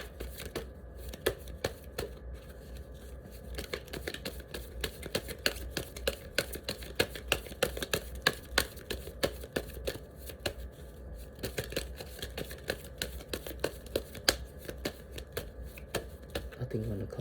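Tarot cards being shuffled in a steady run of soft, papery riffling clicks that continue throughout at a fairly quiet level, close by.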